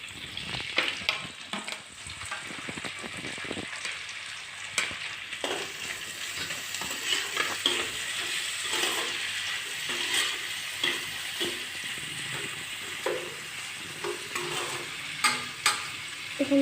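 Chopped tomatoes sizzle and fry in an oily pan for an Assamese fish head curry, with a steady crackling hiss and frequent close scrapes of a stirring spoon.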